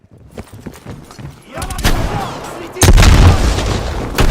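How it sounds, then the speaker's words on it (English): A grenade blast and gunfire in the Call of Duty Cold War campaign: quiet scattered noise at first, then a heavy boom near 1.6 s and a louder, sustained burst of explosion and shooting from about 2.8 s onward. "Incoming grenade!"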